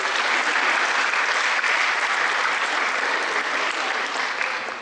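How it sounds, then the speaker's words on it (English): Sustained applause from an orientation audience at IIS, a dense, steady wash of clapping close by that fills the whole stretch and thins slightly toward the end. "Clap for Nidhi ma'am by the campus"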